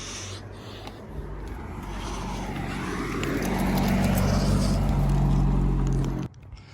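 A 2006 Nissan 350Z is moved on a street, its engine a low steady idle hum that swells as it rolls forward, then cuts off abruptly.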